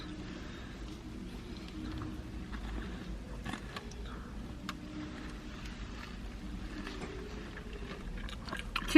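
Someone bites and chews crispy fried dakgangjeong chicken at close range, with faint crunches over a low, steady background rumble.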